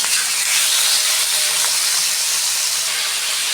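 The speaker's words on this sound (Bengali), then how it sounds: "চিকেনগুলো আমি ভালো করে ভেজে দেবো" Chicken pieces frying in hot oil for a Bengali chicken kosha with whole onions and garlic give off a steady, loud hiss and sizzle that holds evenly for the whole stretch, with no talking.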